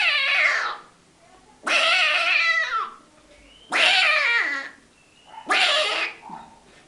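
A human voice imitates a cat whose tail has been stepped on, giving four loud, drawn-out yowling caterwauls separated by short pauses.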